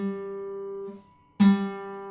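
A single guitar string rings out clean and sustained, briefly fades, then is plucked again with a bright attack and ringing tone, close and alone.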